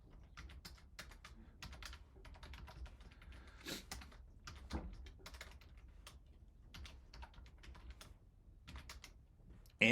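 Rapid keyboard typing clatters in quick irregular bursts of clicks, fairly quiet and close, with brief pauses between runs of keys.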